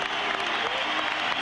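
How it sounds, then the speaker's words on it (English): A hockey arena crowd at an NHL game between the New Jersey Devils and Boston Bruins applauds goalie Chris Terreri, a dense, continuous wash of clapping at a steady level throughout. "people applauding him again"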